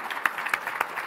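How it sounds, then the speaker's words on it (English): A brief burst of clapping from a small panel discussion audience, individual claps standing out in a quick, uneven rhythm. "round of applause for a great discussion from our panelists"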